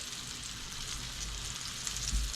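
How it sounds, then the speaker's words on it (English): Southern-style pork loin chops frying in a pan, a steady, even sizzle and crackle that holds alone at moderate level with no talk. "So I'm going to let these fry up,"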